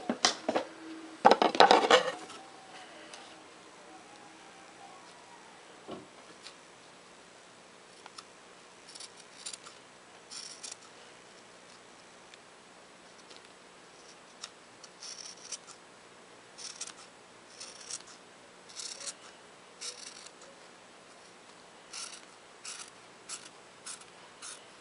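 Scissors cut fabric freehand for a DIY eyelash case, starting with a loud burst of snipping and followed by quieter, intermittent cutting sounds spread through the rest of a calm stretch.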